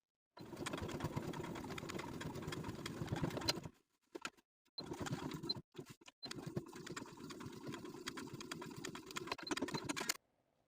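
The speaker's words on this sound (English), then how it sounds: "we're going to take it to the sewing machine and top stitch from the bottom of the sleeve" A sewing machine top stitches a sleeve placket in fast, rattling bursts, running steadily for a few seconds, pausing briefly with short stutters, then running again at length.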